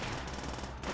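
Sustained MG42 machine gun fire in Call of Duty: World at War, a dense continuous burst of rapid shots filling the whole moment, loud and close with battle noise around it.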